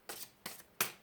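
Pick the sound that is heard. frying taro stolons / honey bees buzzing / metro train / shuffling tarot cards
shuffling tarot cards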